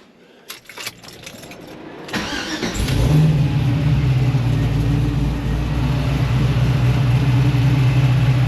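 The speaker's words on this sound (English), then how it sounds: "I'll go ahead and crank it here so you guys can see it working." A supercharged LS engine in a 1969 Camaro cranks after a few clicks and rattles, then catches and settles into a loud, steady, lopey idle close by.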